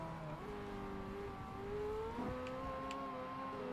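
Engine note of a car in Forza Motorsport, a steady mid-pitched drone that climbs and settles with shifting tones and a faint whir, heard alone.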